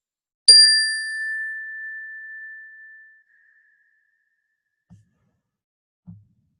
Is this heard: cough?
no